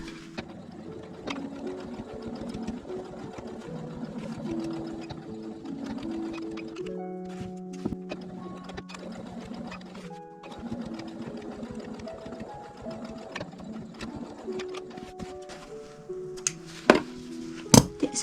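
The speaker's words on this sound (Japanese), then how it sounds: "裏の底も縫います。" A sewing machine runs in steady bursts while stitching the bottom lining of a bag. The motor whirs at close range, with short pauses and a few sharp clicks near the end, and no talking.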